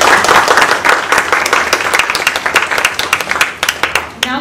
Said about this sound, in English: hats off and plan clap to the team at Streethaven